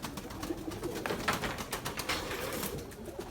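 Pigeons give soft, repeated coos over faint background noise on an evening in Izmir, close and low in level with no voices.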